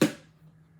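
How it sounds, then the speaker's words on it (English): A single soft thud of the small magnetic door of a 'Box of Vision' box snapping shut, with a brief faint ring fading out afterward. "That was the sound of the door."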